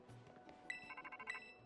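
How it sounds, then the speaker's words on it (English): A Pokemon Scarlet in-game phone rings with two short, bright chiming bursts, faint and thin over a quiet background. "Oh, phone call. Everyone pick up the phone."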